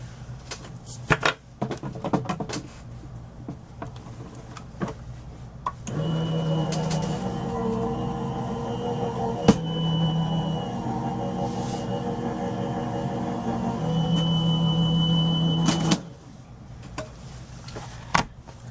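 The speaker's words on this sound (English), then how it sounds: "I'm going to run it through my die cutter" A manual die cutting machine cranks a foam sheet and steel die plate through its rollers, a steady mechanical whir and grind for about ten seconds, bracketed by scattered clicks and handling clatter.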